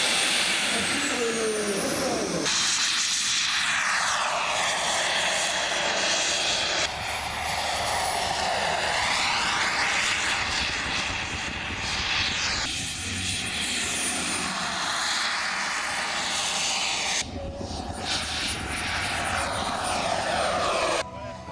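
A radio-controlled model airplane coming in for a very short landing at an RC meeting in Creully, its engine droning steadily and shifting in pitch as it passes, with some talk in the background.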